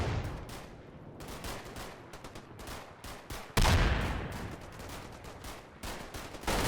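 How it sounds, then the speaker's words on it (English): German mortar rounds pound a hill in the war game Combat Mission Final Blitzkrieg: a rapid string of sharp, booming impacts comes in irregular bursts, with a louder, heavier blast midway through. "the Germans begin to mortar it to high heaven"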